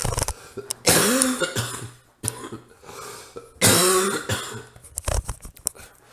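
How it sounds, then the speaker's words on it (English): Two harsh, loud bouts of coughing, each several rough bursts in quick succession, with wheezy breaths and throat sounds in between, close up. "Said I wasn't coughing as much. I didn't say I wasn't coughing."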